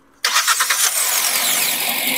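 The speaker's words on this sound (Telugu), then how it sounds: "ఒకసారి వెహికల్ యొక్క ఇంజన్ కూడా ఆన్ చేద్దాం" A new Hyundai i20 Magna car engine cranks briefly and catches sharply after a short silence, then settles into a steady, loud idle close by.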